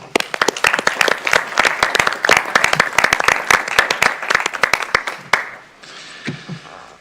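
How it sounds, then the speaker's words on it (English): Audience applause at a school board meeting, dense steady clapping from a room of people for about six seconds before tapering off to a few scattered claps and faint murmurs. "We'll give everybody a round of applause."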